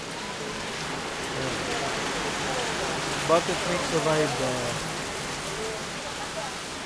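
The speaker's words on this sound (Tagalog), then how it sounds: "Malamig. Lakas sa ulan. Biglang umulan." Heavy rain pours steadily throughout, a dense even hiss that starts suddenly on a cold evening at a Canyon Woods stay, with a person speaking over the downpour.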